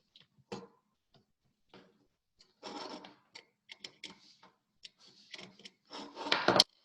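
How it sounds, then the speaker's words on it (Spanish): Small screws on a power supply's line and neutral terminals being loosened with a screwdriver, giving faint scattered ticks and scraping squeaks in short bursts, close up and quiet. "nada más hay que aflojar los tornillitos que nosotros tenemos aquí"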